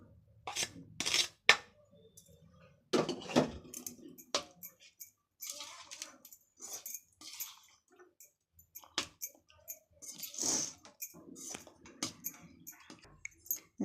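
White rice stirred into a scrambled egg mixture in a pan for Tamil-style egg rice, giving soft scraping and squishing strokes in irregular bursts, near and moderately loud, with no talking.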